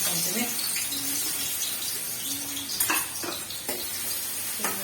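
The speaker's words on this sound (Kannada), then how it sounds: "ಚೆನ್ನಾಗಿ ಫ್ರೈ ಮಾಡ್ಕೊಂತೀನಿ ಉಳ್ಳಾಗಡ್ಡೆ" Chopped onions frying in hot oil for egg rice, a soft, fairly quiet sizzle with sharp scraping stirs and clatter from a spoon against the pan, with a voice talking faintly over it.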